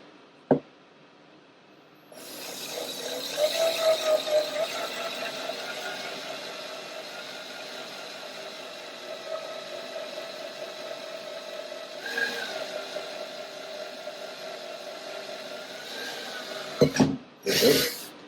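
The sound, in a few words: electric drill drilling a hole in a wheel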